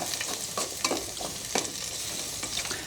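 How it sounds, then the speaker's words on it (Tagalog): Onion, garlic and ginger sizzle loudly in a hot pan while being stirred, a dense continuous frying hiss broken by scraping stir strokes. "Lagay na po natin sibuyas, bawang, luya. And then halu-haluin natin."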